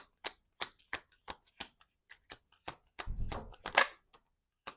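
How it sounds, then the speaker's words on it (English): Tarot cards being shuffled in a series of crisp, sharp riffling snaps at a steady rhythm, then a longer rustling burst of cards cascading together, close and clear with no talking. "Let's shuffle."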